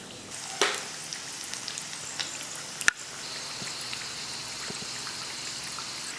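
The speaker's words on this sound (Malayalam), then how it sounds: "മീഡിയം ഫ്ലെയിമിൽ വെച്ച് 2 ഭാഗം തിരിച്ചും മറിച്ചിട്ട് നമുക്ക് ഫ്രൈ ചെയ്തെടുക്കാം." Wheat flour snack frying in hot oil over a medium flame, a soft steady sizzle with scattered crackles and pops, one sharper snap partway through, heard close with no talking.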